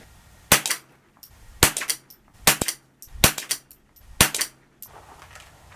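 Five sharp, loud reports from a High Standard Sport King .22 pistol firing Winchester Expert .22 hollow points, spaced about a second apart with brief ringing decay after each and no talking.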